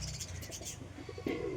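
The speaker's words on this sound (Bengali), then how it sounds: "তো আর একটা পায়রা বামে বসে আছে" A pigeon coos softly at close range, with low rumbling coos and a faint chirp over light background noise, and no one speaks.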